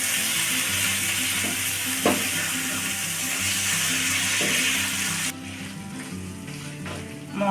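Fried chicken pieces sizzle loudly in a pan of cooking masala for butter chicken, a dense continuous hiss with occasional stirring knocks, dropping to a softer fry partway through.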